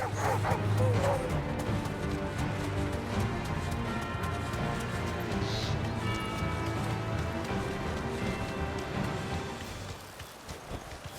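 A dog barks repeatedly in the video game Final Fantasy XVI while hooves clip-clop at a run beside a chocobo. Game music plays underneath the barking.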